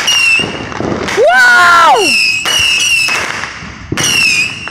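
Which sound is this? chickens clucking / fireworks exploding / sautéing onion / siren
fireworks exploding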